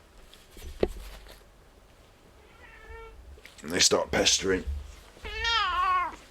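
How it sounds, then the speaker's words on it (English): A cat meows several times, drawn-out and fairly close, with a person talking briefly between the calls in a quiet room. "I'm getting animals now. I've got a cat."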